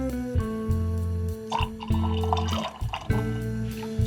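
Water poured into a container of herbal beautyberry extract to dilute it up to six ounces, a steady close liquid fill with gurgling and dripping that pauses briefly a couple of times.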